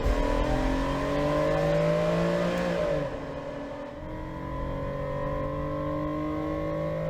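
A car engine with stock exhaust drones and revs in a steady, sustained tone in the racing game Assetto Corsa, dipping briefly midway before climbing again, with no voices over it.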